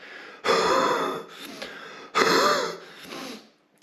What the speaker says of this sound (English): I'm just coughing up all kinds of shit